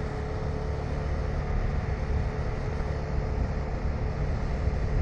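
A KTM 390 Adventure motorcycle engine runs on a nearly empty tank while riding, heard as a steady low drone mixed with wind and road noise, with no talk.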